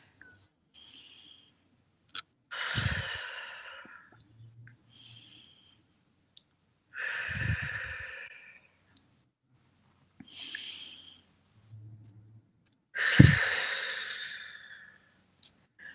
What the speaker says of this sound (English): So let's start by taking 3 deep breaths.